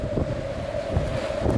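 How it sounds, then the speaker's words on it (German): Strong coastal wind buffets the microphone with a continuous low roar, gusting in a few surges over a steady whooshing background, with no voices. "Ist ja mal so richtig windig."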